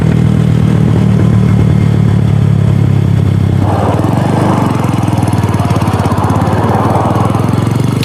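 A motorcycle fitted with new sprockets is ridden in second gear. A loud, close, steady engine drone holds throughout, with its tone shifting midway, and no talk.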